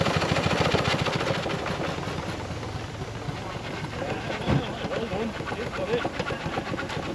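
Steam traction engine running at an outdoor steam festival, a steady chuffing mechanical rumble throughout with a brief louder knock midway, fairly close.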